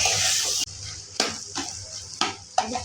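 Four boiled potatoes tipped into a pan for masala dosa filling and stirred: a sizzling start, then several distinct scraping stir strokes with soft frying hiss between them, close and moderately loud.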